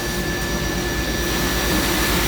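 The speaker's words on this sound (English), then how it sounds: "Cutting our rivet holes now in the handle" A power tool cuts rivet holes into a knife handle in an Alaskan knife workshop, giving a loud, steady high-pitched whine with broadband hiss that holds without a break.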